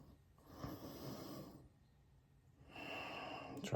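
Slow deep breathing, a long audible inhale followed by a pause and a breathy exhale, close and soft with faint snorting air through the nose.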